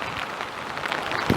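Rain falls during a heavy rainstorm, a steady close hiss of drops on surfaces with small irregular pattering and a slightly louder splash near the end.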